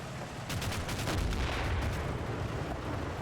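Machine gun fire in the WWII game Combat Mission: Battle for Normandy, heard as a burst of rapid, close gunfire over a rumbling background of distant battle.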